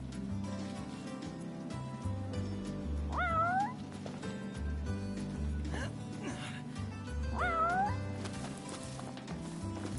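A cat in the video game Final Fantasy XV gives two distinct rising meows several seconds apart over background music. Speech is also present.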